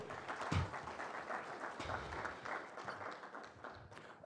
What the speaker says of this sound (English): Give him a hearty clap as he walks to the podium.